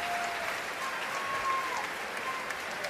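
At a postseason NCAA women's volleyball match between Texas and SMU in Gregory Gym, the crowd gives sustained applause, a dense wash of clapping that fills the arena evenly for several seconds.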